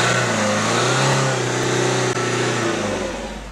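A car engine revs hard and holds high in the rev range with a steady, loud roar, then eases off slightly near the end.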